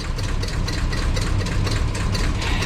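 A 1994 Chevy Silverado 2500 with a 7.4L V8 rumbles steadily through its exhaust, a loud, continuous low idle with a rough, pulsing texture and no talking.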